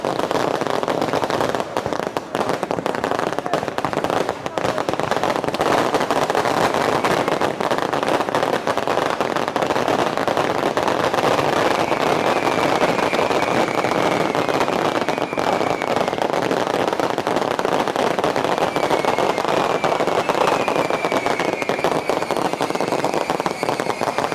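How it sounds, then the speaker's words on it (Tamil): Firecrackers and fireworks going off at a festival in Jaffna, a dense, loud, continuous crackle of rapid pops and bangs with occasional whistling streaks, sustained throughout. "வெடி கொளுத்தி முடிஞ்சுது"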